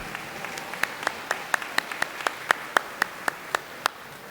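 Sparse, rhythmic hand claps ring out at a school awards day, a small group clapping in a steady beat of distinct, crisp claps that fade after a few seconds.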